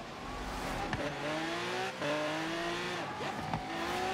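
A Shelby GTR revs and accelerates in a racing video game, its engine climbing steadily in pitch through repeated gear shifts, loud and continuous with faint tire noise underneath.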